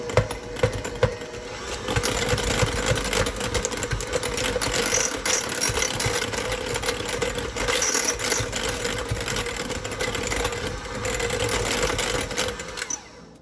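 An electric hand mixer whirs steadily through strawberry vegan cream cheese frosting, a continuous motor drone with a faint rattle of the beaters, running at a constant level for the whole stretch with no talking.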